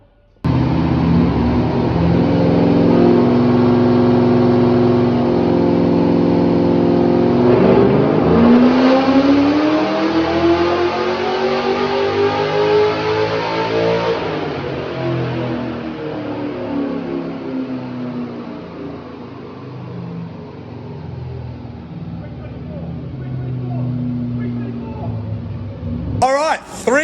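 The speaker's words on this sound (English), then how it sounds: "Let's see what this pulls on the dyno." A Holden LS2 V8 with LS3 heads, VCM intake, Pacemaker headers and an upgraded exhaust revs hard on a dyno, pulling up through the range in a loud sustained roar before the pitch settles and drops.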